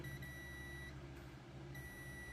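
A multimeter gives a steady high continuity tone while probing a Dell 3521 laptop motherboard. It sounds twice with a short break between, over a low electrical hum.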